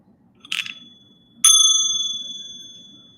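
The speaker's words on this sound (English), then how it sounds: "I'm going to ring this bell" A meditation bell struck twice: a soft, muffled first tap, then a clear, bright ring that hangs and slowly decays in a quiet room.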